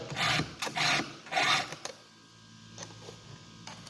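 A file rasps across a chainsaw chain cutter in three quick, loud strokes, followed by a couple of softer, lighter scrapes, close up with no talking.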